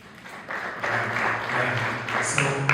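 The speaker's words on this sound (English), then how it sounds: "Can we give it a clap?" An audience at a youth nuclear summit breaks into a swelling round of applause that holds steady, with a few voices talking loosely through the clapping.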